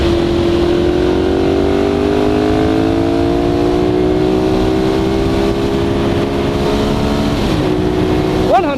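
A Ducati V-twin motorcycle accelerating hard on the road, loud engine note rising steadily through the gears with wind rush, heard from the rider's position.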